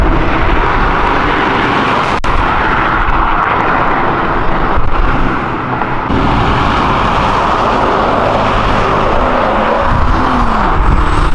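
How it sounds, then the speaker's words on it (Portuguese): An airplane roars past overhead near a road outside a car event, a loud, continuous broadband rush that holds steady for over eleven seconds with faint traffic noise mixed in. "Eu fui pegar aquele avião que passou."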